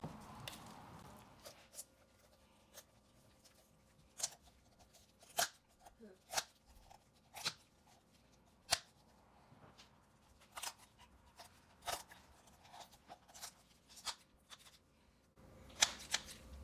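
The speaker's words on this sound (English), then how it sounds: "Get your kitchen shears again." Kitchen shears cut through a raw chicken to spatchcock it. The snips and crunchy cuts come close and fairly quiet, as scattered sharp bursts separated by short pauses.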